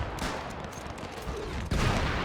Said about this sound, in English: They do have a machine gunner up here, which is able to fire down on my troops